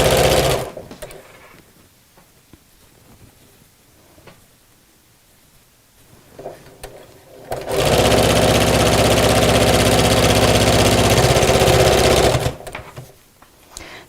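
A sewing machine stitches Debbie Shore's Miss Messenger bag; after a quieter stretch of faint handling noises, the motor runs loud and steady for several seconds up close, then stops, with no talking.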